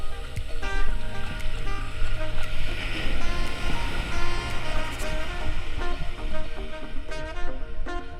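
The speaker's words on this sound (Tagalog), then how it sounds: "Nakatakot yung alon." Strong ocean waves at a beach surge and crash continuously over a windy rumble, with a steady wash of surf close by and no voices.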